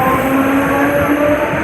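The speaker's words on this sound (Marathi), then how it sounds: "ट्रेन चालू झाली" A Navi Mumbai suburban local train pulling away from Gavhan station, heard from inside as a loud continuous rumble with a steady motor whine, close and unbroken, no talk.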